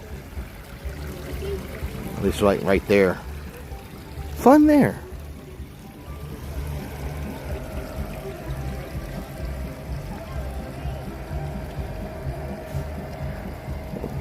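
Rough rushing water at EPCOT makes a steady, full roar underneath brief speech from people nearby, continuing unbroken and fairly loud to the end.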